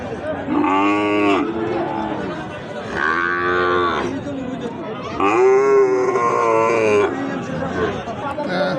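Sahiwal bull calves low loudly at the Ambari cattle market, three long drawn-out moos in a row, close by, with crowd chatter and voices murmuring underneath.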